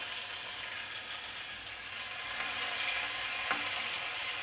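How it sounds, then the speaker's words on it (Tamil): Small onions and tomatoes fry in hot sesame oil for a Tamil tamarind curry, giving a steady, close, even sizzle with a brief stir partway through. "இப்போ வெங்காயம் தக்காளி ஆட் பண்ணிடலாம்."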